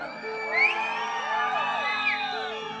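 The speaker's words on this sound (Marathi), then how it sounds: "जोरात शिट्ट्या, टाळ्या जोरात" A crowd at a live Shahir folk-song contest whoops and cheers loudly with rising whistles, a sustained, lively roar of voices that swells and holds throughout.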